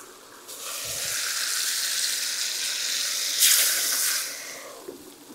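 Water hissing and sizzling in a hot frying pan with pork chops under a lid, a steady steamy hiss that swells briefly midway, close and continuous.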